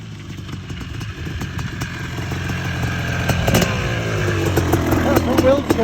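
A rebuilt Kawasaki KX500 big-bore two-stroke motorcycle engine, loud and close, builds from a rough clattering idle into rising revs, with a voice talking over it.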